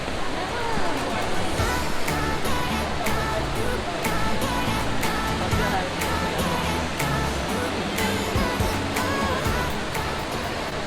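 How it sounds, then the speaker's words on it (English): Steady, dense rush of an indoor waterfall fills the space with constant broadband noise, echoing, with faint crowd murmur beneath. "First stop is the waterfall."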